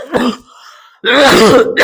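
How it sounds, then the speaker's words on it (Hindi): A man with a cold gives a throaty cough, then after a brief pause a louder, longer bout of throat clearing, close and alone with no other sound. "थोड़ा खांसी हो गया, तबीयत सही नहीं है"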